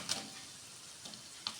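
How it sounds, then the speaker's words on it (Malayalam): Garlic and ginger fry in hot oil for veg noodles, a close, even sizzle with a few brief crackling pops and no talking. "നമ്മുടെ എണ്ണ ചൂടായി വന്നിട്ട് നമുക്ക് ഇനി അതിലേക്ക് ഗാർലിക് ആഡ് ചെയ്ത് കൊടുക്കാം"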